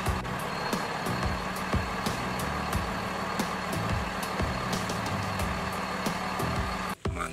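Toy tow truck playing its motor sound with reversing beeps: a steady, loud, dense electronic drone with a repeating beep pattern, close and continuous, briefly cutting out near the end.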